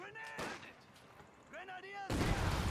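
Battlefield gunfire in Company of Heroes 2 comes as sharp cracks and short bursts, ending in a loud, dense volley. Whistling tones and a voice talking run over the shooting.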